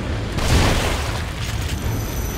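A single heavy shotgun blast in The Evil Within, a deep booming burst followed by a rumbling decay and low background ambience.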